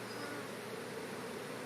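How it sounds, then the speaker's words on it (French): A steady, dense buzz of many honeybees filing back into their hive, a vibrating swarm close by, holds at an even level throughout with no talking. "Quand on voit les petites abeilles comme ça qui, à la queue leu-leu,"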